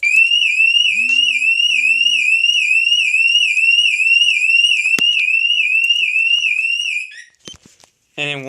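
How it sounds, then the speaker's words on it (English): A Scorpio motorcycle alarm, triggered by turning the key, warbles continuously and loudly in a rapid repeating up-down pattern for about seven seconds, then stops, followed by a few clicks. "Now when I turn the key, the alarm's going to start going off."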